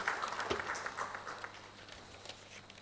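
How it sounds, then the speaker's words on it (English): Audience applause at a women entrepreneurs' business conference panel, a brisk patter of clapping that starts strong and thins out over a few seconds, heard close and without talk. "A round of applause for Arushi, please."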